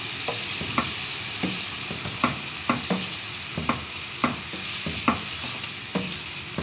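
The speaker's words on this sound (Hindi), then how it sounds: "ये 2 अदद टमाटर, 3 हरी मिर्चें और पुदीना, इन सबको मैं अच्छी तरह फ्राई कर लूँगी" Tomatoes, green chillies and mint fry in a pan for chana dal, a steady sizzle broken by repeated sharp scrapes and taps of a spoon stirring at an irregular rhythm, close and clear with no talk.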